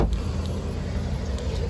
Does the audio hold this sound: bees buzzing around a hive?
no